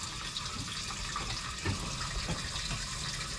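Fuel drains from the tank of a 1966 Mustang, making a steady close splashing, gurgling pour with a few louder bumps partway through.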